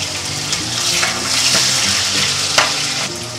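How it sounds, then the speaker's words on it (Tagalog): Onions sautéing in oil in the same frying pan used for potatoes and carrots, a close, steady sizzle with occasional scraping stirs. "pwede na natin igisa yung sibuyas natin"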